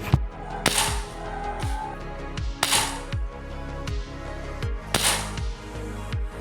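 Pistol shots fired at a paper target during shooting practice before a North Zone match: several loud, sharp cracks spaced about two seconds apart, each followed by a short reverberating decay, with mechanical clicks between them.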